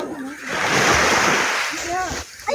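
Sea waves wash in at a white-sand beach resort in Calatagan, Batangas, a broad surging rush that swells and recedes while voices talk over it.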